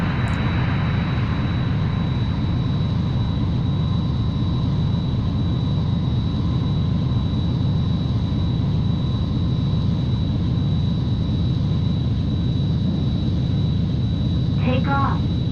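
Steady roar of a jet plane engine taking off in the video game Ace Combat 3, a loud continuous drone with a thin high whine, running unbroken throughout.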